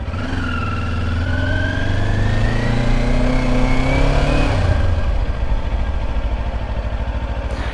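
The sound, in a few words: Kawasaki Ninja 500 SE motorcycle with stock exhaust taking off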